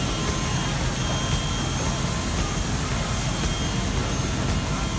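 Boeing 777 jet engines roar in a broad, steady wash of noise, loud and unchanging throughout with no distinct events.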